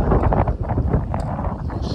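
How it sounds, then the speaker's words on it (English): Gusty wind buffets the microphone with rough, rumbling bursts that rise and fall for a couple of seconds, at a Yukon River camp in Alaska. "Ooh, it's windy."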